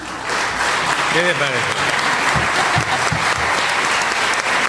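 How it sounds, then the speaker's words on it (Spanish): Loud applause from a university audience welcoming a priest onstage, a thick continuous roar of clapping with a brief spoken question over it and a few low thumps near the middle. "vamos a recibir con un fuerte aplauso al padre John Sobrino"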